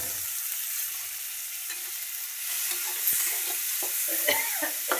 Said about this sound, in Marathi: कांदा भाजू दे जरा चांगला.